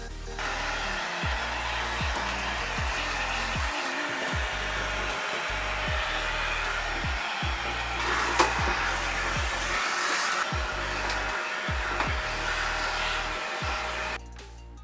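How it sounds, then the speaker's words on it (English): A vacuum cleaner hoovers dust out of a desktop PC case, its steady loud whine running throughout, with rhythmic low thumps as the nozzle moves, cutting off near the end. "We can get the case hoovered out and dusted out so that there's nothing left on the inside of that."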